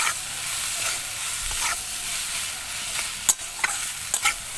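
Soybean chunks stirred and frying in a pan, with a steady loud sizzle throughout and a few sharp scrapes of a spatula near the end.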